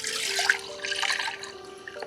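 Liquid pouring out in a short splashing stream, close up, trickling and gurgling for about two seconds.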